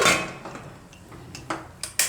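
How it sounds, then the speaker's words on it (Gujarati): A pressure cooker lid is shut in a kitchen, giving a few sharp metallic clanks and clicks close by, with quieter handling noise between them and no talking. "તો કુકરનું ઢાંકણું બંધ કરી દેવું"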